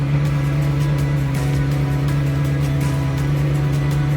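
A cheap old Ferrari's engine turns over and drones steadily, with a constant low hum and faint regular pulsing throughout, close and fairly loud, with no voices.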